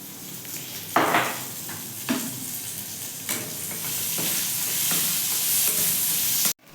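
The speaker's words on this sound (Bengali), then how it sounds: "এবার দিয়ে দেবো টমেটো" Tomatoes drop into a hot frying pan for chicken pulao, bringing a sharp burst of sizzling followed by steady frying hiss with a few stirring scrapes, close and continuous until a sudden cutoff.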